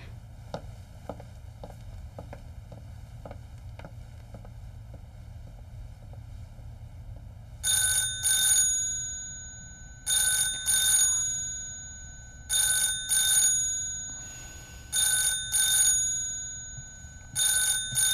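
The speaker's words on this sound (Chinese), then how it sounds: "你怎么不接电话呀？" An old-style telephone bell rings unanswered in repeated double bursts, loud and close, after a quieter stretch of low background rumble and faint ticking.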